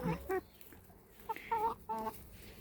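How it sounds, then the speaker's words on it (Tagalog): Mostly Rhode Island Red chickens cluck and squawk close by in short bursts, several calls overlapping briefly with quiet gaps between. "Sari-saring klase ng manok mayroon kami dito. But mostly Rhode Island ito."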